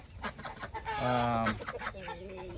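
A Wyandotte hen clucking while tending her chicks, soft repeated clucks close by with a longer drawn-out tonal call in the middle.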